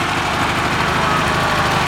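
An antique Citroen car engine runs at a vintage car gathering in the small French town of Haguenau, giving a steady, rough mechanical drone that is loud, close and unbroken.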